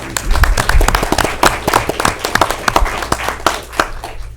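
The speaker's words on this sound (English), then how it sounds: "Let's give her a round of applause." Applause at a school district board meeting recognizing an elementary school student: a modest group clapping nearby, with distinct individual claps in an irregular, lively patter throughout.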